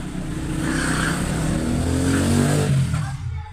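A car engine revs loudly and steadily up close, its pitch climbing and falling, then fading at the end.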